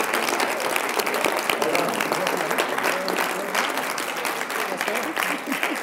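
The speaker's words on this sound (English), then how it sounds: "One more round of applause, please." Closing-debate audience applause at a university research group event, a sustained, dense round of clapping from a sizable crowd, loud and unbroken throughout with no talk over it.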